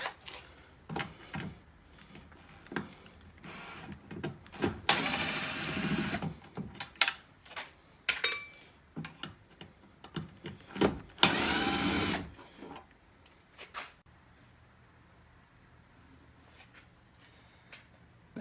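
Phillips head screws being taken out of a Chevy Cruze taillight with a power driver, heard as two loud buzzing whirs between lighter clicks and handling noises, close and without talking.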